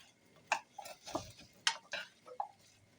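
Onions are stirred in a pan during preparation of a coconut milk chicken curry, with a utensil making several sharp, separate clicks and scrapes against the pan, close and quiet, with no one talking.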